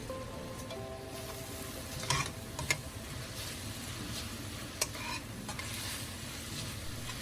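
Pork sautéing with freshly ground peppercorn in a pan for pork binagoongan, a continuous sizzle with occasional sharp clinks of a utensil stirring against the pan.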